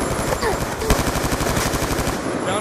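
Rapid automatic gunfire from an Xbox video game rattles on in dense, continuous bursts for the whole stretch, loud and close amid other game effects.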